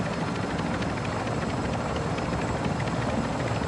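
A steady, loud helicopter rotor chop and turbine whine from a video game chopper carrying players, continuous and close with no talk over it.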